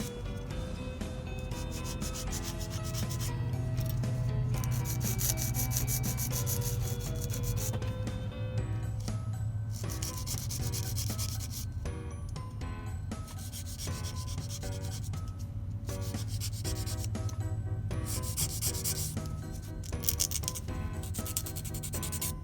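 A 180/100 grit nail file shapes dip powder nails into a coffin shape: continuous close, scratchy rubbing strokes with a steady back-and-forth rhythm, and no talking.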